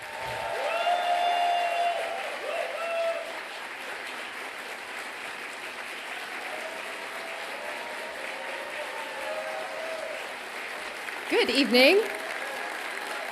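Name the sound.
applause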